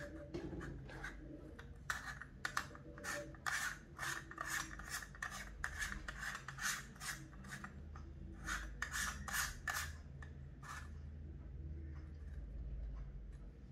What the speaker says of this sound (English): take the 62 millimeter ring of the Desview T3 teleprompter and thread it into the lens over here